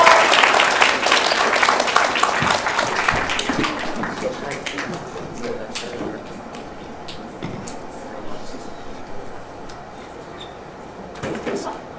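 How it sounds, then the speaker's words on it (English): Applause from an audience after a school drama performance of Fox and the Crow, loud and dense at first, then thinning and fading over several seconds with scattered claps near the end. "shall we give a clap for Fox and the Crow?"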